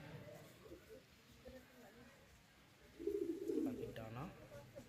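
Pigeons in a home loft coo softly, with a louder burst of throaty cooing toward the end over faint background noise.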